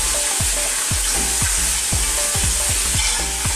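Crab cooking in a pan for a Filipino coconut-milk dish, with steady frying sizzle and repeated scraping stir strokes at a regular rhythm, close and fairly loud, no talk.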